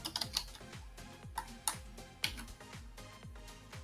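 A computer keyboard typed on while entering a terminal command, a brief run of soft, close key clicks in an uneven rhythm, quiet and with no talk.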